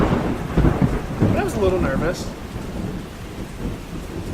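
A thunderstorm heard from inside a school bus: loud, rolling thunder rumbles over a constant patter of rain, while a person speaks briefly through it.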